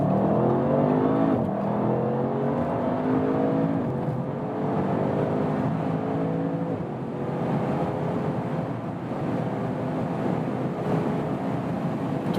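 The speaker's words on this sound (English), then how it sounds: "we do like a flying start, safety first, from about 40 kilometers an hour" Audi RS7 Sportback pulling hard from a rolling start at about 40 km/h, its engine note climbing steadily through the gears in a loud, continuous roar heard from inside the car, with no talking.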